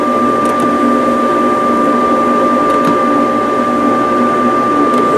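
A Gerber cutting machine cuts toe board carpet for an early Porsche 911 with a loud, steady mechanical whir and hum, plus a few faint clicks.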